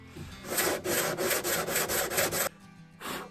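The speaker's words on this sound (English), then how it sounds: "I'm gonna continue to turn this guitar around in the vise and sand the whole thing" A guitar body with Tasmanian blackwood sides and an ebony endwedge inlay, held in a vise, is sanded by hand in about eight rhythmic back-and-forth rasping strokes, close and fairly loud, followed by a pause and one more stroke.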